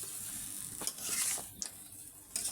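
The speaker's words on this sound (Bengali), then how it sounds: "সুন্দর করে কষিয়ে নিব।" Chunks of meat and bottle gourd sauté with salt and garam masala powder in a partly covered pan. A soft, steady sizzle runs throughout, broken by a few scraping stirs.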